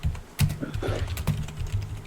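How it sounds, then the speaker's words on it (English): Someone types on a computer keyboard nearby: uneven bursts of light clicking keystrokes, faint and close, with irregular gaps between them. "He's back to typing again."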